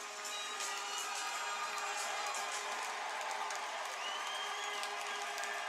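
A hockey arena crowd at an SPHL game between the Mayhem and the Fayetteville Marksmen cheers and applauds after a fight, a steady roar of clapping, shouts and whoops filling the space throughout.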